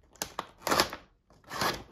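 Adhesive tape peeled from a sealed package holding a Breyerfest 2023 special-run model horse: two quick sharp crackles, then two longer sticky tearing pulls, close up with no talk.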